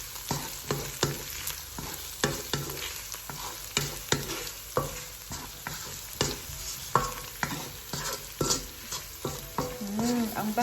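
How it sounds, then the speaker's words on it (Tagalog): Spicy corned beef and potato with chili flakes sizzle in a pan while a spoon scrapes and stirs in repeated strokes, close and steady, with no talk. "Stir lang natin."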